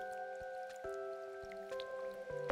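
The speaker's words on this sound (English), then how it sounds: "It's so rainy." Rain falls in a video game, a soft pattering of drips under sustained musical tones and periodic low thuds, with no talk.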